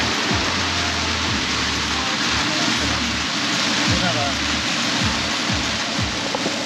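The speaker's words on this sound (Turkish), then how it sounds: "31 derecelik havada yağan yağmura bakın." Heavy rain falling in 31-degree heat in St. Augustine, Florida, drumming loudly and continuously around a car on the road, a dense roar with low rumbling beneath it.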